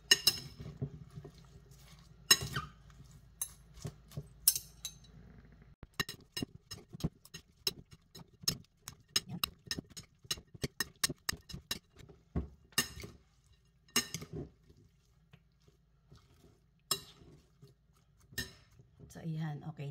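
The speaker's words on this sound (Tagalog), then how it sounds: "Haluin natin mabuti." Vegetables for a Thai salad tossed with sauce in a bowl, giving a steady run of close, irregular utensil clinks and taps against the dish, with brief pauses between bursts.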